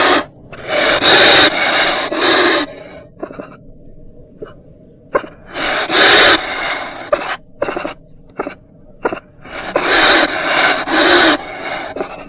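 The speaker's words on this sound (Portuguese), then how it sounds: "Pacaranas rosnam assustadas." Harsh, breathy growls and snorts erupt in repeated bursts, loud and close, broken by short huffs and quiet gaps.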